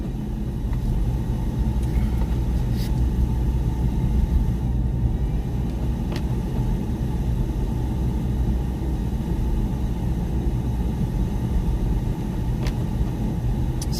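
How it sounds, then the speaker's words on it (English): A car power inverter in a vehicle on snowy roads in Cheyenne whirs with loud fans, a steady low drone filling the whole stretch with no talk over it. "that whirring that you hear in the background, that's the inverter"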